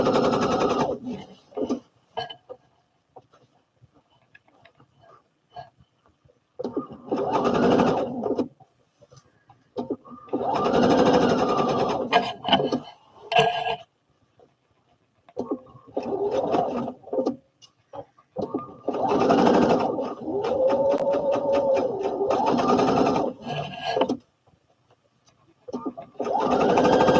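A sewing machine stitching side seams on patches runs in several bursts of rapid mechanical whirring, stopping and restarting with short pauses between, close and fairly loud, with people talking during the gaps.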